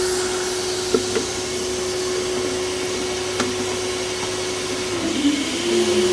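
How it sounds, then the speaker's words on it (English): A steady, loud vacuum motor of an auger talcum powder filling machine drones on with a constant hum and whine, shifting slightly in pitch near the end as it toggles between two motors. "So the vacuum on."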